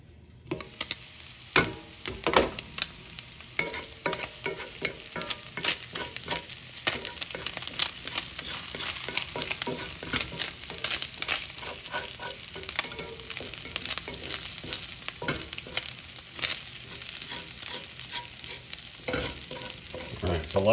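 Chicken cheesesteak meat, dark meat, frying on a hot griddle, a constant crackling sizzle punctuated by frequent scraping and stirring clatters from a spatula, close and steady throughout.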